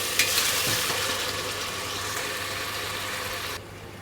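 Chopped tomatoes fry with garam masala in a pan for a beef trotters curry, a close, steady sizzle with a few stirring scrapes early on, dropping quieter near the end, with no talking.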